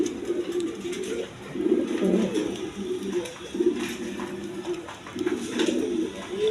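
Pigeons coo steadily at a breeding farm, a continuous low burbling chorus from several birds close by, rising and falling in repeated soft phrases with no talk.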